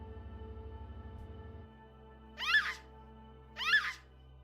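A cat meows twice, about a second apart, in the video game Fear & Hunger Termina, clear but moderate in level after a low game-music drone cuts out.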